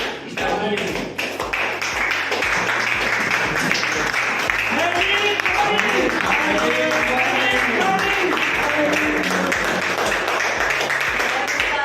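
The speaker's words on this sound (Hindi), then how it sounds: "जोरदार तालियों से उनका अभिवादन कीजिएगा।" Loud audience applause greets a speaker at an MLM industry event, sustained clapping for the whole stretch, mixed with music and voices talking.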